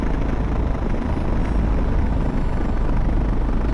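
A biplane engine in a flight simulator game idles with the throttle chopped fully back, giving a constant low droning rumble that stays steady and loud throughout.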